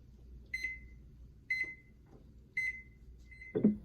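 A kitchen timer sounds while eggs boil on a stove, three evenly spaced bright beeps about a second apart, followed by a duller clunk at the end, clear and close in a quiet room.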